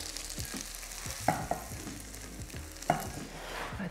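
Gyros meat sizzles in a frying pan, a steady crackling hiss broken by a few sharper clinks and scrapes of stirring, close and without speech.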